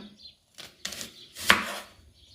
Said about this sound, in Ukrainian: Тепер я поріжу цибулю.